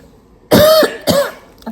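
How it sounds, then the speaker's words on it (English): Two harsh, close coughs in quick succession, each a rough throaty burst, followed by a faint third catch of breath. "I think my cough is settling."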